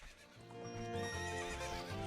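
Epona the horse in The Legend of Zelda: Ocarina of Time whinnies over the rhythmic thud of galloping hooves, loud and close in a short burst with no talking.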